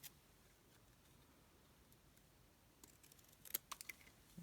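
Small scissors trim the excess card from the edge of an artist trading card with a stained-glass-style background, making a few faint, quick snips near the end after a quiet stretch.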